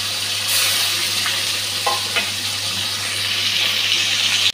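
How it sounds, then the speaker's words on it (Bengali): Hilsa fish pieces and a fish head fry in hot oil, giving a loud, dense, continuous close-up sizzle with a low steady hum underneath and no talking. "তেলটা গরম হয়ে গেছে, মাছটা ভেজে নিচ্ছি। মাথাটাও ভেজে নিচ্ছি একসঙ্গে।"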